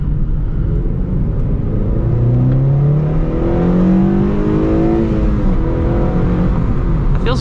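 A 9th-generation Honda Civic Si fitted with a Ktuner v2 tune revs hard from inside the cabin, its engine note climbing in rising harmonic sweeps into VTEC and holding a loud, steady drone throughout.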